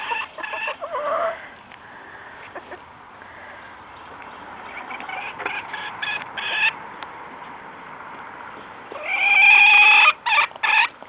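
Hens being hand fed, with soft clucks and squawky calls coming and going close by, ending in a louder burst of bird calls near the end.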